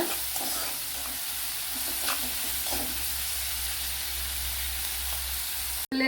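Sliced onions sautéing with a little salt in a pan for an egg perattu, a steady soft sizzle with faint scraping stirs running throughout, close by, ending with a brief drop-out.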